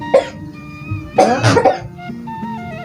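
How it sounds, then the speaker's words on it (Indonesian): A few close, harsh coughs, one short cough followed by a longer rough coughing fit, with faint background tones. "ini kita batuk wae"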